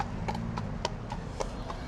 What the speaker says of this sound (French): Encore un cheval.